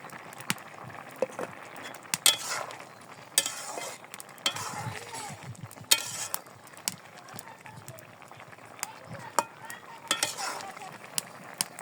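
Onions go into a hot pan of cooked vegetables and lentils, frying with a low sizzle under sharp clinks and scrapes of a utensil stirring against the pan; a voice speaks intermittently.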